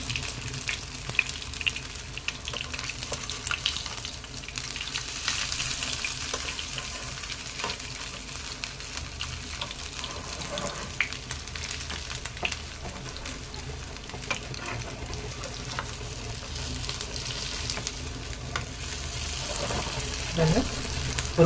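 Chicken kebab pieces frying in a pan over a medium flame, a continuous close sizzle and crackle with occasional spatula scrapes as they are turned.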